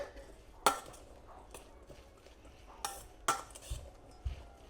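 Sweet corn pakora ingredients get a quick mix in a bowl: a few sharp utensil knocks against the bowl and soft scraping, faint and close, with quiet gaps between strokes.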